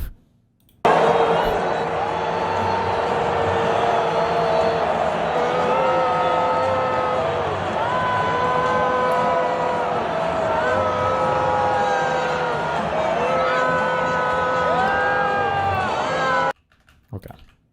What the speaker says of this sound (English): It literally sounds like one guy booing.